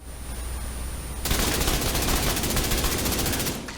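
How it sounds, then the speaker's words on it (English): Automatic weapon fire in the video game The Division 2, a sudden burst of rapid shots starting partway in and running continuously to the end, loud over a quiet hum. "Sorry, I missed all my shots there."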